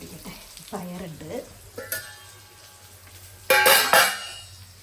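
Fish frying in a pan for a rice-porridge meal, with faint sizzling, a few clinks and scrapes, and two loud bursts of spattering sizzle near the end.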